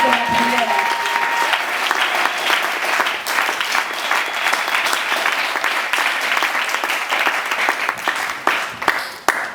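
A church congregation applauds the Lord during a prayer service, a dense and sustained burst of clapping from many hands that holds at a steady loudness throughout.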